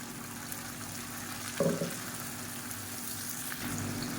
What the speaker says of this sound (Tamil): இப்போ பாருங்கள் வெங்காயம் நல்லா வதங்கிடுச்சு இப்போ நம்ம அரைச்சி வச்சுருக்க சட்னி வந்து இதில் சேர்த்துக்கலாம்